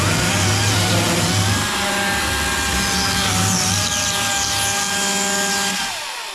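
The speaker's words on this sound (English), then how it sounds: "And I'll plane it, as you can see." An electric planer shaves a rotten wooden garage roof beam with wet rot, giving a loud, steady whine that runs unbroken for about six seconds before easing off at the end.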